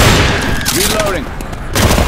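Gunfire in Left 4 Dead 2 as survivors shoot armored zombies, a loud steady volley of game shots under voices and other effects.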